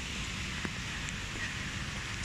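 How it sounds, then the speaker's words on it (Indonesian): Rain falling on a day meant for a sunset cruise in Kota Kinabalu, a soft, steady hiss with a few faint drip-like ticks, quiet and even throughout without talk. "Hujan."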